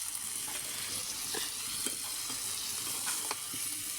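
Kalbaush fish frying in a pan, with pangas fish also in the dish, gives a steady close sizzle and hiss, broken by several soft crackles and pops from the oil.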